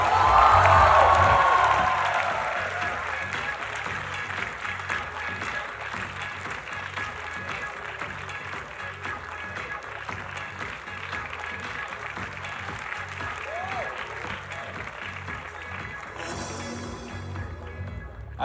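Sustained audience applause welcoming actress Jaya Bachchan onto the stage at a fest event, dense clapping that peaks at the start and then holds at a steady, slightly lower level throughout.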